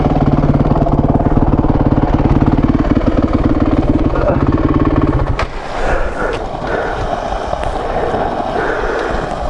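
An overheated dirt bike engine idles loudly and steadily for about five seconds, then cuts off abruptly, leaving only outdoor wind and ambient noise.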